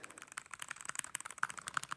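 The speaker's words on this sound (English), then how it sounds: "This mechanical keyboard." Rapid clicky keystrokes on a mechanical keyboard, a steady close run of sharp taps with a few louder accented key hits, with no talking.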